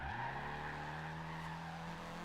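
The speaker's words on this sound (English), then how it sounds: "this bad drifting sort of fits with the whole racer theme of the rest of the car here" A riced Honda Civic drift car in Forza Horizon 2 skids with a sustained, even tire squeal layered over a steady engine drone, loud and close throughout with no talking.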